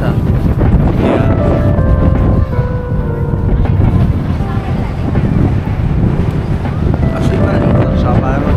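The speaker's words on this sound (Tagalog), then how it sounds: "At sobrang lakas pa ng hangin, my god." Strong wind buffets the microphone in a loud, continuous roar on a rooftop deck in Hong Kong, with faint voices underneath.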